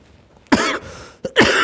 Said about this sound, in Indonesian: Nah itu batuk ya.